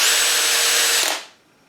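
A Metabo 18V brushless hammer drill whirs loud and close as its chuck spins to tighten the jaws onto a bit, a steady high motor whine that cuts off and winds down within about a second.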